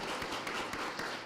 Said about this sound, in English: We appreciate that. You can clap.